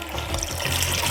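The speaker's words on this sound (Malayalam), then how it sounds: "വെള്ളം ഒഴിക്കണം" Water pours steadily into a pot to cover brass items being cleaned, a continuous close splashing trickle with no pauses.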